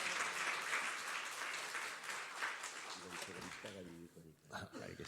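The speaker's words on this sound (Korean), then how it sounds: "큰 박수 함성으로 환영합니다" A church congregation at an early-morning prayer service claps and cheers to welcome the pastor to the pulpit, a dense wash of applause that fades as a voice speaks over it.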